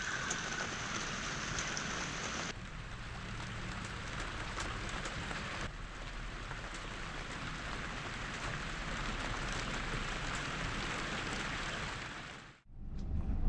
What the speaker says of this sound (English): This is what 4 days of non-stop rain does here.